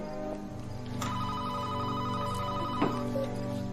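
A telephone ringing indoors with a steady, sustained electronic tone, loud and close, going on alone without talk.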